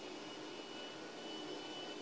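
An airplane's jet engine in Grand Theft Auto V, flying over the city near the Maze Bank tower, gives a steady, even roar that holds for the whole stretch without talk.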